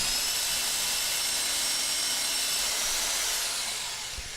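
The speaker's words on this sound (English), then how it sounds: "drill the last hole in that row" A power drill whines steadily at high pitch as it bores through wood, close and continuous, easing off slightly at the end.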